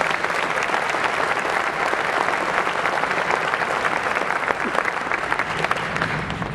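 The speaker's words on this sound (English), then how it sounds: "I sure would appreciate it if you give them a round of applause" A press-conference crowd applauds a football coach's wife and sons with loud, sustained clapping from many hands, steady and unbroken throughout with no voices over it.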